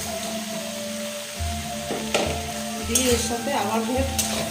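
Fried hilsa fish stirred into pumpkin, potato and spices in a pan, a close sizzle with repeated scraping strokes of a spatula and a few louder clatters, while a voice talks briefly.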